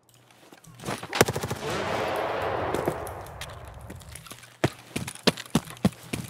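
Rapid bursts of video-game gunfire crackle in tight clusters over a rushing, whooshing wash, followed by a string of sharp, separate shots near the end, with no talk over them.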